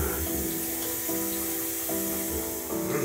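Tap water runs steadily from a faucet inside a house, a continuous close hiss with a faint tonal hum beneath it and no talking.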